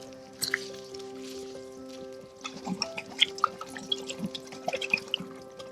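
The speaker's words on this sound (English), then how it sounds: "And one more lemon bath to remove any freshness." Raw turkey gets washed in a lemon water bath, with gentle splashing, dripping and squishy handling sounds close by, quiet at first and then busier with scattered wet splashes, no speech.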